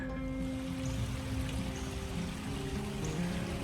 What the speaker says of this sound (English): Lovely babbling brook goes underneath the bridge